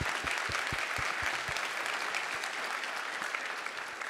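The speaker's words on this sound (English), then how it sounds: "Let's give them a big round of applause." Conference audience at a transportation plenary breakfast in Los Angeles applauds, a few distinct claps at first building into steady, fairly soft clapping across the room.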